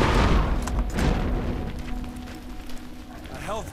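A grenade explodes in the Borderlands shooter game with a loud, low boom right at the start, then rumbling battle noise and other game sounds fade under it.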